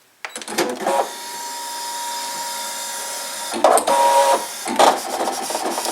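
A Brother ScanNCut machine cutting stickers whirs and buzzes loudly up close, with sharp motor starts and stepping bursts of carriage movement over a steady mechanical hum.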